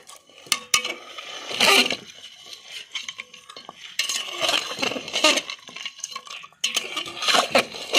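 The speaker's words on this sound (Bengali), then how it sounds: "তো ভালো করে একটু নাড়া করে নেবেন।" Beef nihari with chopped coriander stirred in a pot, a spoon scraping and clinking against the metal in repeated close strokes with short pauses between bursts.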